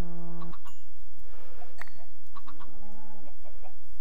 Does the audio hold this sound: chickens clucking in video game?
yes